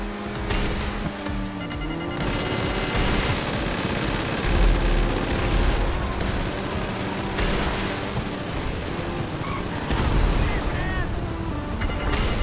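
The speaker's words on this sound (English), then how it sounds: "Your rebuilt vehicles were equipped with missiles and guns." Rebuilt game vehicles fire missiles and guns in a dense, loud barrage of rapid gunfire and booming explosions that runs on continuously, with a voice speaking underneath.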